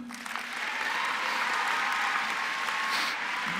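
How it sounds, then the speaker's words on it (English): At a 2017 high school graduation ceremony, the audience applauds the teachers; the clapping swells quickly after a brief start and continues as a broad, fairly distant roar. "Clap for them now."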